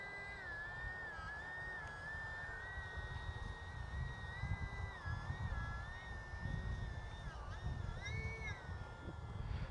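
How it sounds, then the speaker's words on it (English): The small electric motor of an RC bush plane whines at a distance outdoors over grass, its pitch rising and dipping as the throttle is eased up and down against a low background rumble. "is that motor skipping or are you milking the throttle?"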